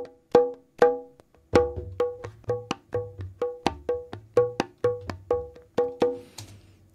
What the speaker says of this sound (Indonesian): Kemudian kita beralih ke track selanjutnya yaitu yang kendang yang untuk yang high.